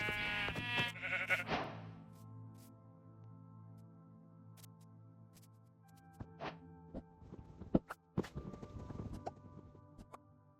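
Minecraft sheep bleats sound in short bursts near the start, followed by soft clip-clop footsteps and a few sharp clicks over a steady low hum.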